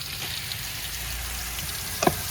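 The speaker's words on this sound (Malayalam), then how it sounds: "നല്ലപോലെ ഒന്ന് ഇളക്കി കൊടുക്കാം പച്ചിപ്പൊന്ന് മാറുന്നിടം വരെ നമുക്ക് ഇളക്കി കൊടുക്കാം" Onions and crushed coconut stir-fried in a pan for a homestyle taro leaf thoran, giving a soft, steady sizzling hiss with a single brief scrape of stirring near the end.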